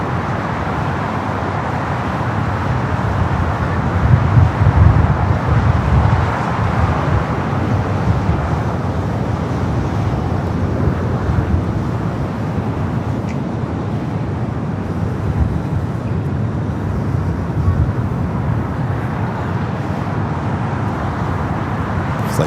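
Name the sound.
Lufthansa Airbus A380 taxiing at LAX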